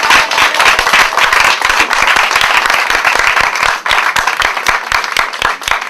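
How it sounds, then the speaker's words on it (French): A church congregation claps in a dense, continuous burst of applause throughout, loud and close, with sharp individual hand claps standing out over the crowd noise. "Encouragez-moi dans vos acclamations, c'est bien, ça me réjouit de cœur."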